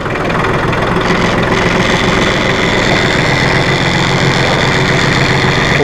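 The engine of a 2005 New Holland TC30 compact tractor with loader runs at a steady idle, with a loud, continuous diesel rumble close by and no one speaking.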